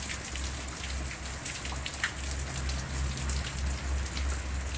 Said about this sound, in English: Been raining for 3 days.